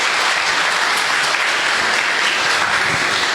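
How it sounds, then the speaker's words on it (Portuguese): Steady, dense applause from a church congregation fills the whole stretch at an even loudness, heard alone without talk. "Vamos dar uma salva de palmas"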